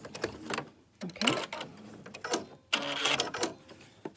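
A sewing machine runs in several short bursts of rapid, even stitching on a face mask seam, pausing between runs, fairly close and moderately quiet.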